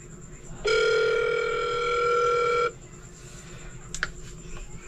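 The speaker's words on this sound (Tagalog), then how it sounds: "Tawagan ko ulit, baka makasagot din." A phone's ringback tone sounds as a call is placed again, one long steady electronic tone lasting about two seconds, followed by quiet room noise.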